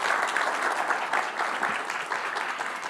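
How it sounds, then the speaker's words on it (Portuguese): A live audience at the Vindi Tomorrow event claps for Paulo, a dense, steady burst of applause that holds at an even level for a few seconds with no talk over it. "Só uma salva de palmas para o Paulo aí."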